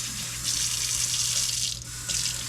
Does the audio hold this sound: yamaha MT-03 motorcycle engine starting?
no